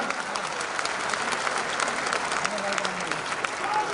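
Sustained clapping from an audience at a government event in an auditorium honoring the chief minister, steady and dense throughout with some voices underneath.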